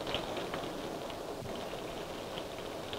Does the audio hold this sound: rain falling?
yes